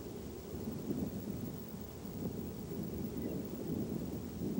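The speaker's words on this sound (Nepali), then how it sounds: "यसका साथै विन्ड केभ नेसनल पार्कमा यस्ता आँधी आउन सक्छन्" Thunder rolls as a low, continuous rumble during a thunderstorm over the grasslands of Wind Cave National Park, with steady wind-like noise throughout and no voices.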